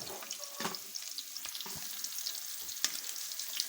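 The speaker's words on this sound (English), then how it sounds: "I stir the pot." Fried rice with spice being stirred in a pot, giving steady sizzling frying with scraping stir strokes at close range and no speech.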